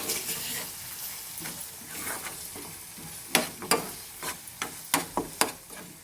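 Tomato chutney cooks in an oiled pan under a soft sizzle while a spoon stirs it, with several sharp clacks and scrapes against the pan toward the end.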